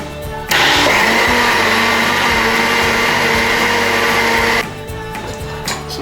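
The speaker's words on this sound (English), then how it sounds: "Put the beans into the blender, and we're going to blend it till it's smooth" A kitchen blender whirs loudly and steadily for about four seconds, pureeing cooked beans for Nigerian gbegiri soup until smooth, then cuts off, leaving a quieter room.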